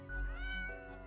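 A cat sound effect in an audio drama: one drawn-out meow, close and clear, rising then falling in pitch over about a second with no talk.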